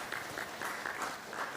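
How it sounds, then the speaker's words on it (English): Applause after a certificate presentation at a science and technology conference, a faint, steady patter of clapping from the audience with no talk over it. "Please give a round of applause."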